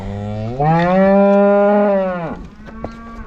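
On a farm holding a bull and two cows, one animal lets out a loud, close, drawn-out moo that rises, holds and drops off, followed by quieter rustling.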